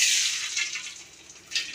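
A little water is poured into a pan to make sugar syrup for homemade laddus, a soft, steady trickle that swells at the start and again near the end, close by with no talking.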